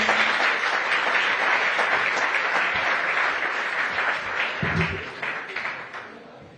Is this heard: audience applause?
yes